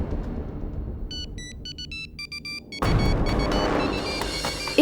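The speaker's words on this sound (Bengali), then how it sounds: "এটা মনে হয় আপনির ফোন।" A mobile phone ringtone plays in a repeated electronic melodic pattern over a low rumble, then a loud dramatic boom-like swell takes over.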